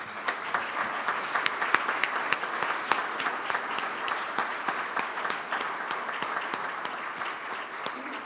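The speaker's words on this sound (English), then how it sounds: "Let's give her a round of applause." Steady applause from a small crowd, sharp individual claps forming an even patter that continues throughout at moderate volume.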